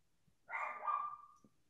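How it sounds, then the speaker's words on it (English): A dog outside lets out one short, muffled bark in the middle of an otherwise quiet room. "what can you guys hear the dog? Must be a squirrel out front or another dog."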